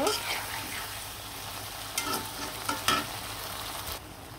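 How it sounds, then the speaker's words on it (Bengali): Boiled flat beans and potatoes fry in a pan with turmeric, chili, cumin and coriander powder, giving a continuous close sizzle broken by a few sharp stirring scrapes. "হলুদ, মরিচ, জিরা আর ধনিয়া গুঁড়ো দিয়ে দিলাম, দিয়ে ভালো করে সিমগুলো আলুগুলো কিন্তু কষিয়ে নিব"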